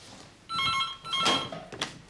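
A home telephone bell rings in two trilling bursts, fairly close, followed by a short clatter; no one speaks.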